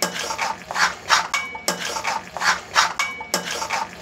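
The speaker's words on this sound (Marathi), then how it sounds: "आणि हे सगळं आता मी ढवळत आहे, मिक्स करत आहे." Creamy cheesy corn Italian pasta stirred in a pan, with a steady rhythm of spoon scrapes and knocks against the metal repeating every half second or so, close and clear with no voices.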